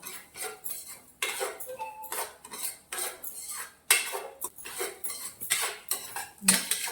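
Wheat rava being stirred as it roasts in ghee in a pan, a spoon scraping and clinking against the metal in repeated strokes, close and clear with no talking.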